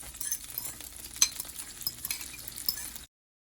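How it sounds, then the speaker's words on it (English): Eggs cooking in melted butter for a Jamaican-style omelette, a soft steady sizzle with light clinks of a utensil against the pan, close and fairly quiet, cutting off abruptly. "So my butter melt, I'm gonna add my eggs into the butter"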